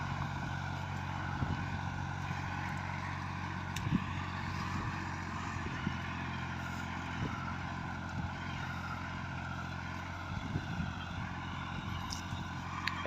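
A Fiat 480 tractor works in a cotton field in Punjab, Pakistan, its engine a low, steady, fairly quiet drone with a faint rhythmic thump running throughout.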